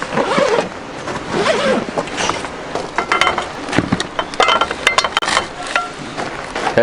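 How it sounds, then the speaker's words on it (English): A clothing or bag zipper rasps open and shut in short bursts at a bush camp on an Easter trip, near and fairly loud, with clinks and rustling around it. "Zipper."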